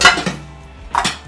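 A small frying pan set down with a sharp metallic clatter, followed a moment later by a second clank, close and loud with no talk.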